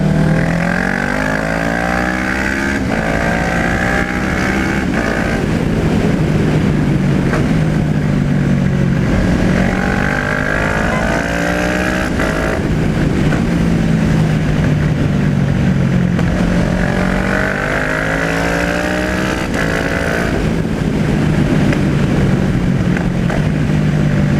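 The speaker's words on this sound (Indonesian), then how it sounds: "Mesin dengan ECU yang udah dimodif ini dipasangkan dengan knalpot Two Brothers Racing yang suaranya" A Kawasaki ER6N scrambler motorcycle with a modified ECU and a Two Brothers Racing aftermarket exhaust idles and revs repeatedly, its deep throaty rumble rising and falling steadily, close and continuous throughout.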